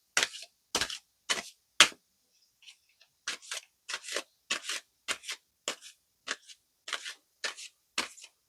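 Tarot-style cards riffle-shuffled for a spirit card reading: a rapid run of crisp, close papery bursts, roughly fifteen short riffles with a brief pause near the start, no talking.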